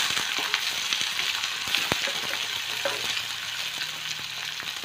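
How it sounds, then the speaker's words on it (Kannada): Onions and mustard seeds fry in oil in a pan for a greens stir-fry, a continuous close crackling sizzle with faint stirring scrapes and small pops throughout. "ಈಗ ಸಾಸಿವೆ ಸಿಗ್ತಾ ಇದೆ, ಈರುಳ್ಳಿ ಹಾಕ್ಕೊಳ್ಳೋಣ. ಸ್ವಲ್ಪ ಫ್ರೈ ಮಾಡಿ"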